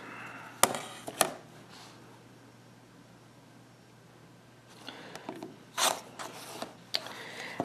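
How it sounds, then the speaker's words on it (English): Fabric seam allowance trimmed with a cutter along a ruler for quilt corner units, a few sharp close cutting and clicking bursts at the start and again near the end, separated by quiet. "now I'm going to trim off what's behind that square or the triangle that flips up"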